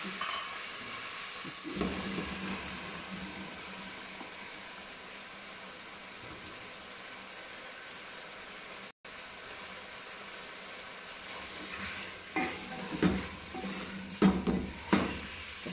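Okra and tomatoes are stir-fried in a pan, giving a quiet, muted sizzle with a brief drop near the middle. Scraping and clanking stirs grow louder and more frequent toward the end.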